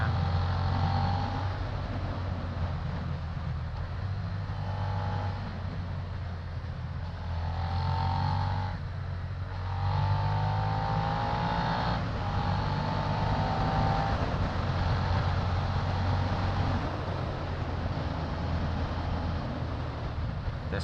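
Suzuki SV650 motorcycle running at speed with its fuel-injected engine, a steady low droning hum with a few rising and falling pitch sweeps as the revs change over about twenty seconds, wind noise, no talking.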